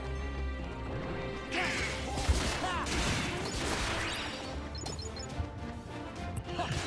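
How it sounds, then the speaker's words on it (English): Explosions and crashing impacts from the Kingdom Hearts 2 Final Mix video game come in dense, layered bursts with whooshes and ringing tones over steady game music. The level is moderately quiet. "Explosions!"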